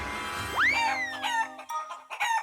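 A cartoon boy turned into a chicken lets out a loud rising squawk, followed by a run of close, choppy clucks.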